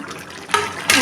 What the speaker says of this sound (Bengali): ওপর থেকে এবার আমি ঘি দিয়ে দিলাম।